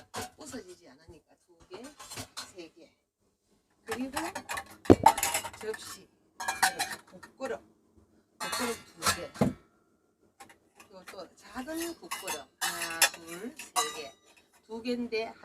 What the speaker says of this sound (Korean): 그리고 이렇게 그릇 두 개. 뭐 그릇 마음대로 이렇게 던져도 이렇게 잘